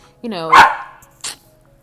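A single dog bark rings out close by, a rising yelping bark followed by a short second yip, with a brief pause between them.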